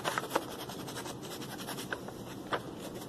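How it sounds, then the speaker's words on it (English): Short scratchy rubbing strokes of sanding on a cut rubber band gun part, close and fairly quiet, with a few sharper scrapes standing out. "We're going to cut it off and then sand it off."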